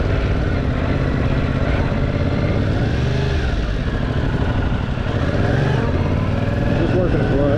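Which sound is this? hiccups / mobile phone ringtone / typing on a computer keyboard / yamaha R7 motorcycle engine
yamaha R7 motorcycle engine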